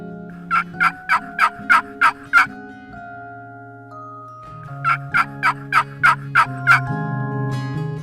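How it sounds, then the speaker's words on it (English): Wild turkey gobblers gobble loudly and close, two quick runs of about seven sharp rattling calls each, separated by a brief lull, with no voices. "One gobbler gobbled right over my head."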